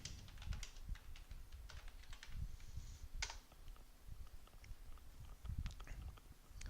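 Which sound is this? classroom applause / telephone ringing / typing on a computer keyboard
typing on a computer keyboard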